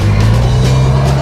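A truck engine roars loud and steady, close up, as the truck spins in a donut, with a constant low rumble and no break in the sound.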